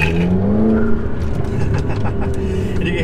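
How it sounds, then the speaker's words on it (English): 2012 McLaren MP4-12C pulling out of a parking lot and accelerating, with turbos spooling behind the cabin: a rising engine drone and whine under steady road and interior noise, heard from inside the car. "And you can hear those turbos spooling right behind us."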